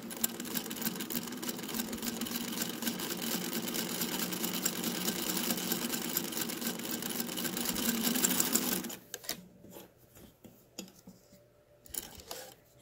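A Singer Featherweight sewing machine stitching fabric with a quarter inch foot runs in a steady, fast mechanical whir for about nine seconds, then stops, leaving faint handling clicks and rustles.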